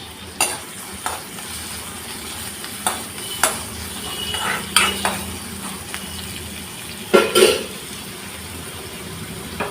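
Chopped onions fry in a pan for a quick egg curry, with a soft, steady sizzle under repeated stirring scrapes and occasional louder clatters.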